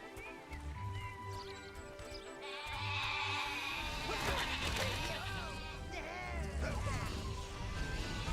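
Sheep bleat in the video game Overlord. Several wavering calls rise over a busy mix of game music and ambience, while someone talks over much of it.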